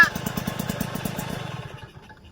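A motorcycle engine running out of petrol putters with a rapid, uneven pulse that weakens and fades out within two seconds, close by in an outdoor setting.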